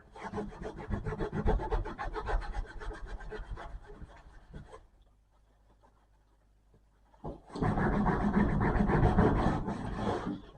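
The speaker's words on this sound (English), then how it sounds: "Just give everything a bit of a wipe down here, including in that corner where the grout's overrun." Steady rubbing and scraping as excess tile grout is wiped and scraped off surfaces, a long continuous stretch, a quiet pause, then another loud sustained bout of close scraping, with no talking.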